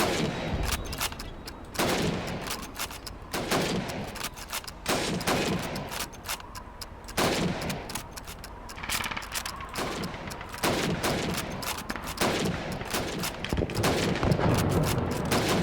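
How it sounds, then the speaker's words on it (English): Rifle shots ring out at helmet targets on a Call of Duty 2 training range, a rapid string of sharp, loud cracks repeating every second or so for about fifteen seconds with echoing tails between them. "You have 15 seconds to shoot the helmets"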